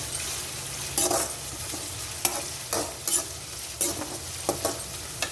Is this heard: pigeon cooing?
no